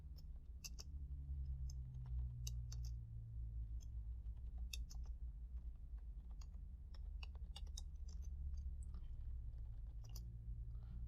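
Typing on a computer keyboard for a simple word game, with sparse, light key clicks at an uneven pace over a steady low background hum, close and fairly quiet, with no voices.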